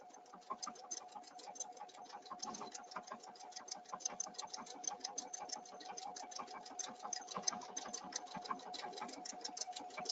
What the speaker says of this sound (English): I press my start-stop button, and it's going to stitch my heart.